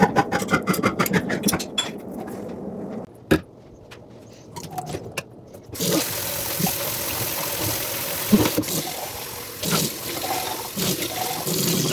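Canned beans are rinsed under a running tap, a steady broadband rush of water filling the second half after a stretch of clattering can and handling noises, close and moderately loud.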